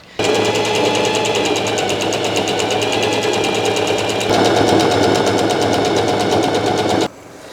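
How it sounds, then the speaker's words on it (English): A sewing machine stitches linen shirt pieces along a straight seam, running steadily and loudly with a fast even mechanical rhythm for about seven seconds before stopping abruptly. "Stitch up this straight line all the way across so it will be a single piece."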